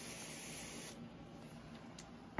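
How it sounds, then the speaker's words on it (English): A hand spray bottle mists water onto sphagnum moss inside an isopod enclosure, a close, steady hiss that eases off midway and ends with a soft knock. "I'm only going to be watering the sphagnum moss that's right there. So we'll just give that a little spray."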